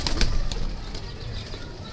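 Young pigeons beating their wings close by, a burst of flapping in the first half second that then trails into a softer, continuous rustle.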